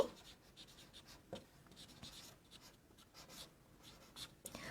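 Pen or chalk writing out a chemistry problem, with a series of faint, close scratching and tapping strokes in an uneven rhythm and no talking.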